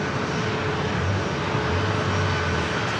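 A JetBlue Airbus A321 arriving from Boston passes with a steady, moderate engine roar and a faint whining tone running through it, heard alone without talk.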